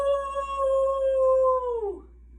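A person imitating a wolf howl during a children's movement exercise, a single sustained, clear, voiced howl held steady for nearly two seconds, then sliding downward and cutting off, close and loud.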